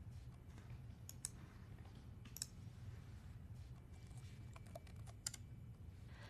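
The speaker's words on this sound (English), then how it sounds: "Open a PowerShell prompt and type out the application name like this." Keystrokes on a computer keyboard at a PowerShell prompt, a steady run of light, quiet clicks over a low background hum, with no one speaking.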